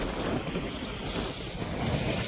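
Broad rushing water noise at a British-era dam mixed with wind buffeting the microphone, steady throughout, outdoors.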